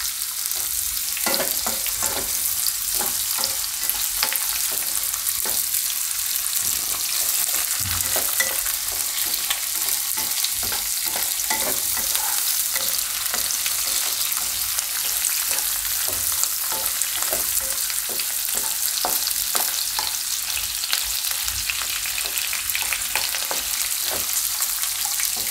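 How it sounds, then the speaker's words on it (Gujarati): Capsicum and mixed vegetables frying in a pan, a loud continuous sizzle with frequent spatula scrapes and tosses throughout, close up and uninterrupted by speech. "આ બધું આપણે ફ્રાય કરી લઈએ."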